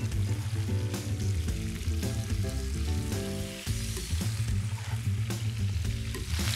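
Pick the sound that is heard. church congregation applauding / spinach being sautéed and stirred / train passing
spinach being sautéed and stirred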